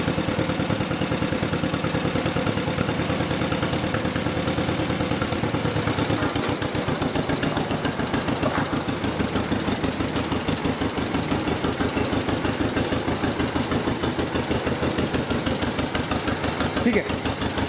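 A tractor engine idles nearby with a steady, fast chugging pulse that holds evenly throughout, while people talk briefly over it.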